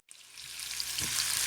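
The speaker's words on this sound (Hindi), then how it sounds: "प्याज फ्राई हो रही है" Onions frying in desi ghee for a masoor dal tempering, a close sizzle that starts abruptly and builds to a steady crackling hiss over a second and a half.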